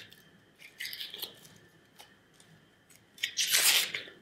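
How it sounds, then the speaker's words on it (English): Close, quiet crisp snips and tearing as a knife slices along the side of an onion and its papery first layer is peeled away, two bursts separated by a lull, with no talking. "do a little slice along the side. That cuts through that first layer and makes it easy to peel off."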